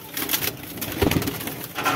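A male pigeon gives soft, low coos close by in a short burst, with faint background rustling.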